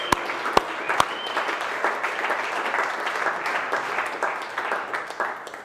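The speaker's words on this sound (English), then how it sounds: "Round of applause." An office crowd gives a round of applause for staff service anniversaries at an all-team meeting, with a few sharp claps at the start followed by several seconds of steady clapping.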